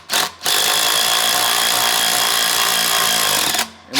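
A Bead Buster tool pushed down between a UTV tire and wheel to pop the bead, giving a loud sustained grinding, buzzing mechanical roar for about three seconds, framed by brief quieter gaps at start and end.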